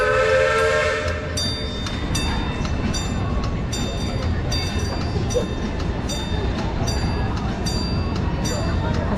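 Steam-style amusement park train at Cedar Point in Sandusky, Ohio, sounding a long tonal whistle blast up close, then rolling past with continuous loud clatter and rumble, a voice talking faintly underneath.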